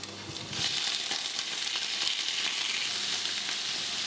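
Shrimp dropped into hot oil with golden garlic bursts into a loud, dense sizzle after a quieter start, then keeps up a steady close frying hiss with small crackles.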